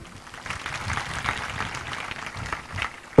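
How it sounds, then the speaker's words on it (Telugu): A church congregation claps together in a short burst of scattered, uneven applause that sounds moderately distant in a reverberant hall. "వాళ్ళు చప్పట్లు కొట్టండి"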